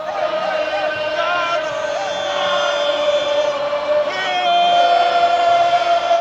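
A large crowd of Ghanaian fans at a football match roars in a steady, dense wash of voices, with chanting and cheering swelling slightly toward the end.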